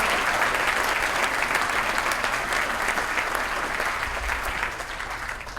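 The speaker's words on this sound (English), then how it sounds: "All right, a round of applause for all of them." An audience at a 2019 CCHF speech event claps steadily throughout, a dense, even burst of applause that thins slightly toward the end.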